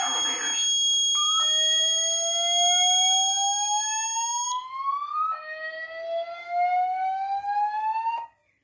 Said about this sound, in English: Fire detection. Alarm.